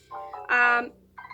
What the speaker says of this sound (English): that was my phone just for a YouTube notice